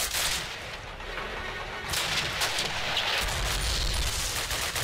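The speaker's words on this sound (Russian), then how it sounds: "Тут он стреляет." Sustained gunfire from a Call of Duty battle at a railway marshalling yard, dense bursts and shots packed together, loud and close throughout with no talk over it.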